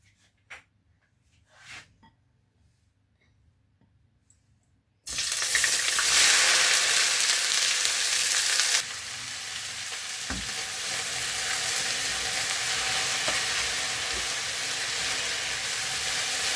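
Okra frying in a pan, a few quiet clinks before a sudden loud, hissing sizzle starts and settles into a steady crackling fry with occasional stirring, no talking.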